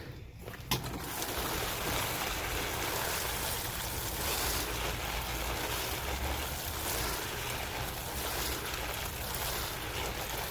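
Leftover water poured over a sun-baked compost pile in a garden: a steady, full splashing rush that runs unbroken for about ten seconds, close and fairly loud, with no voices.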